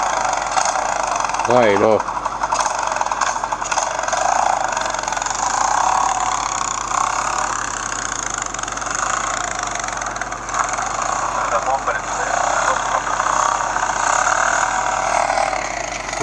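A small engine runs close by with a steady buzzing drone under a little throttle, holding fairly even while someone speaks briefly near the start.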